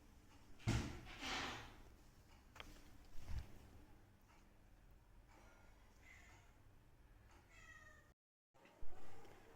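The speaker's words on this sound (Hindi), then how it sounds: "हेलो, नई बिल्ली की एंट्री हो गई है।" Cat meowing inside a closed-up house, with a few clear calls through the clip, some near and loud, mixed with thumps like a door or drawer knocking; no one speaks.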